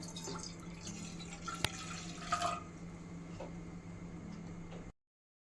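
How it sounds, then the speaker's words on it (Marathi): A pot of water boils on a lit gas stove, with soft scattered bubbling pops and a couple of sharper drips over a low, steady burner hiss, then the sound cuts off. "बघा आपल्या पाण्याला आता उकळी आलेली आहे"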